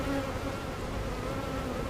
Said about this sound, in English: some frames of bees over here, or frames of brood